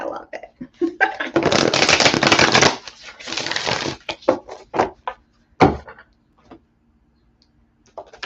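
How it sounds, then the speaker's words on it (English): A deck of oracle cards is shuffled in two dense riffling bursts, followed by scattered taps and card clicks that fade out, with a person speaking near the start. "I'm going to move on to my cards now"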